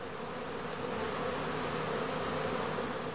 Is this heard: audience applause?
no